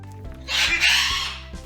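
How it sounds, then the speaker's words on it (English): Birds squabble outdoors, a burst of harsh squawking and clucking calls that swells loudly for about a second and then fades. "Oh, now we have a bird fight."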